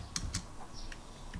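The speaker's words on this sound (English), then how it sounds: "type Telnet" Typing a command on a computer keyboard while running Windows 10 Command Prompt: a few sharp, close key clicks spread over a second and a half with quiet gaps between them.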